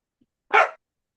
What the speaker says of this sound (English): Oh, I hear a puppy